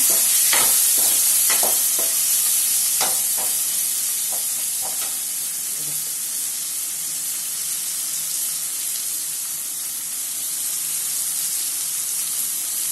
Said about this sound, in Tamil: தக்காளியை போட்டு நல்லா கிளறி விட்டுக்கிறோம்